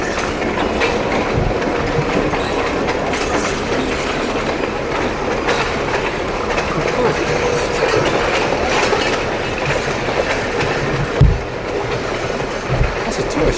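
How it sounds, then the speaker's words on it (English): A tourist train passing nearby with continuous loud rumbling and clickety-clack of wheels on rails, occasional squeal and knock, steady throughout. "That's a tourist train."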